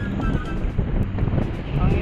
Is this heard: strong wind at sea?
yes